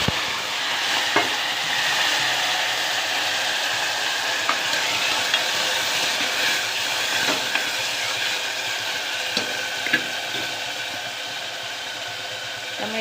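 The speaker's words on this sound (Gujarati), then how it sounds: "સરસ મજાનો વઘાર થાય છે," Mustard seeds, cumin and fenugreek powder sizzle in hot oil for a vaghar, a steady crackling fry with scattered sharp pops, close and continuous with no voices.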